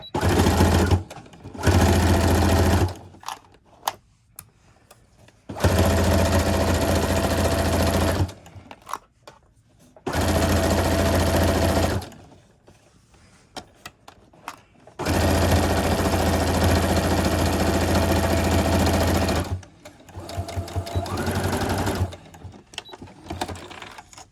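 A domestic sewing machine stitching a McCall's 8505 garment runs in several loud, steady bursts with short backstitch reversals, separated by quiet pauses.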